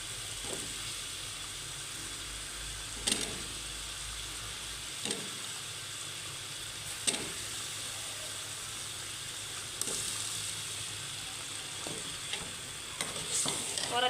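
Potatoes fry for aloo matar in a steadily sizzling pan, a continuous crackling hiss with occasional scrapes and knocks of a spoon stirring them, close and unbroken by speech.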